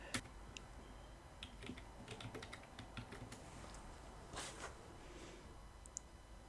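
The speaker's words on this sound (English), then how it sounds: "you've probably been listening to me just typing away there" Keys on a computer keyboard clack in short, irregular runs of quiet taps with brief pauses between them. The typing is faint and close, with no other sounds.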